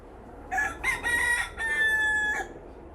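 A rooster crows loudly and close by, a single long cock-a-doodle-doo rising in several bursts before holding a drawn-out final note.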